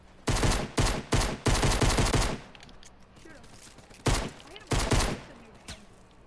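Gunfire from the video game Fortnite comes in several sharp, loud bursts, a quick string of shots, then a pause with faint movement sounds, then more bursts.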